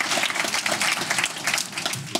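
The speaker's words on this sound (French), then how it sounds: "on peut applaudir" A brief burst of applause from the audience at a local-commerce product show, many hands clapping at once in a dense, fairly close wash with no voices above it.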